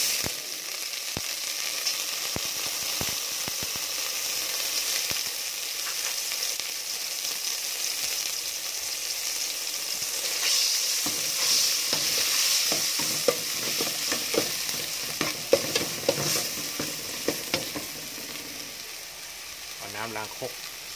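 Chilies roasting in oil in a pan, with a steady sizzle and repeated scraping and stirring clatter that grows busier and more irregular toward the end, close and moderately loud.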